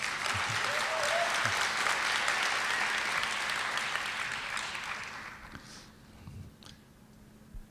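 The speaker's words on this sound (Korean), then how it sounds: "박수를 한번 주셔야 되는 거 아닙니까?" Audience applause fills a security conference hall after a talk about patching an account-hacking flaw, a dense wash of clapping that holds steady for about five seconds, then thins and fades out to a few scattered claps.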